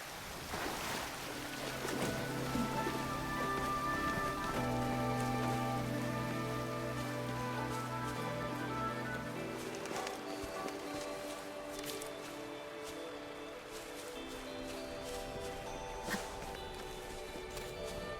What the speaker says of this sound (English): Once we cross the waterfall, we'll reach Mount Pingting.